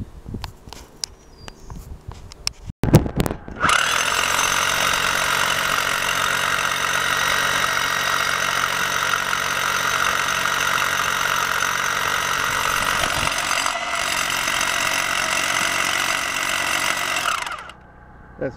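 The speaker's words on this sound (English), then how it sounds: "This drill works really good, even in granite." A hammer drill with a carbide-tipped bit bores into granite in one continuous, loud, droning run of about fourteen seconds, starting abruptly and cutting off near the end, with no talking.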